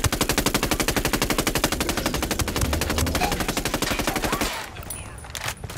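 Rapid sustained machine-gun fire in the video game Ghost Recon Wildlands, a loud evenly spaced burst of shots lasting several seconds, then trailing off into a few scattered reports.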